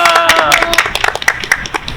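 A small group claps for the beginners during a casual gathering in Gyeongju, a brisk burst of close, distinct hand claps with voices chattering and laughing over the top throughout.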